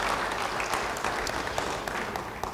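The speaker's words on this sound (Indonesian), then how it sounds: "Yang percaya beri tepuk tangan bagi dia." Congregation in a church service breaks into steady, dense applause, a full room of clapping that stays loud and even throughout with no voices on top.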